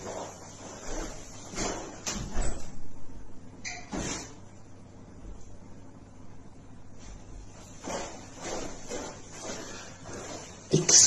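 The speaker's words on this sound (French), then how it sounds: "Attendez, faut que je lui ouvre la porte." Indoors, a door is opened to let a pet through, giving a few soft clunks and sliding rattles over a quiet, hissing room background.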